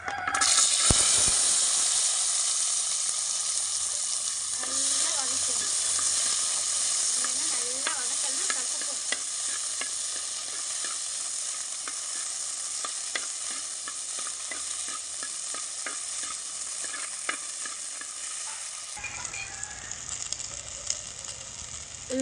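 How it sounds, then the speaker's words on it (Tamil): Turkey berries sauté in a spoonful of oil in a pan, with a steady bright sizzle and hiss broken by frequent scraping stir clicks, continuous and close, then the sizzle softens near the end. "இப்போ ஒரு ஒரு எண்ணெய் வச்சுருக்கேன் ஒரு ஸ்பூனு அதில் சுண்டைக்காய் வதக்கி எடுத்துக்கலாம்"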